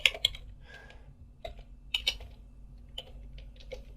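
Quiet, sparse keystrokes on a computer keyboard as a Linux terminal command is entered, irregular taps with short pauses between them, close and alone.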